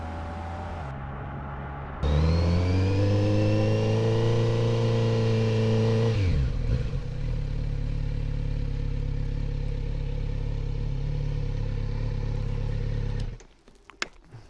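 A motorcycle, a newly bought bike that steps up from a Z650, is ridden on the road, its engine revving up through the gears in a rising whine, then settling into a steady, loud drone before dropping away near the end.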